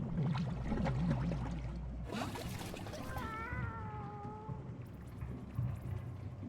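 Several cats in the video game Animal Well give a short run of rising and falling meows midway, over a steady watery background hiss, with a voice talking at the start.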